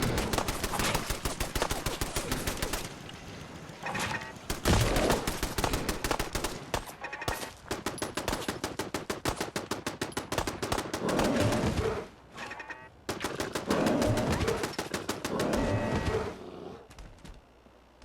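Automated turret gunfire in the Fallout 4 video game, rapid machine-gun bursts firing in long continuous runs separated by brief pauses, loud and close.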